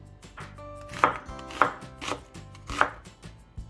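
A knife roughly chopping food on a cutting board: about five firm, uneven strikes, close and clear, with lighter taps between them and no voices.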